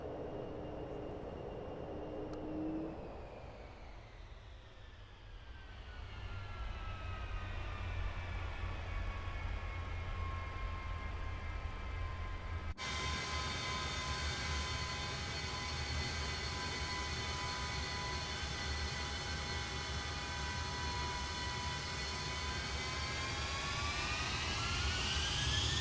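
Aircraft engine in Microsoft Flight Simulator 2024 on PS5: a steady jet-like whine and rumble with tones that sweep down as the engine spools, then grow louder and richer after an abrupt jump in volume.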